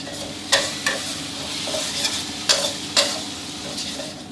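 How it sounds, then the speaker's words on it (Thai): Garlic fries in oil that was started cold, a steady close sizzle punctuated by several sharp scraping stirs of the spatula against the pan, with no talking. "เราเจียวกระเทียมตั้งแต่ตอนที่น้ำมันเย็นๆอยู่นะครับ"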